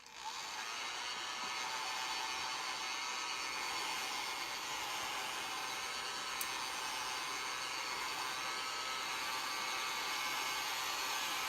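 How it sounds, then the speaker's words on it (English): Steady, continuous whoosh of a hair dryer blowing at close range, unchanging for the whole stretch with no voices. "hit him with the dryer now"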